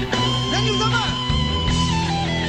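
Loud, heavily distorted electric guitar riff with sustained gritty notes, full band backing in a 2007 live concert at Planet Hollywood, no talking.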